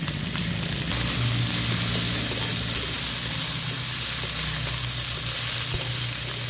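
Chopped vegetables for chow mein, including carrot, capsicum and chilli, sizzle and hiss steadily in a hot pan, close and continuous with occasional stirring.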